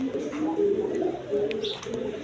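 A pair of red three-bar short-faced pigeons give low, soft, rolling coos, a steady close murmur lasting throughout with a few faint clicks and chirps above it.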